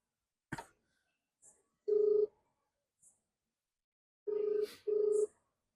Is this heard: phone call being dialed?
yes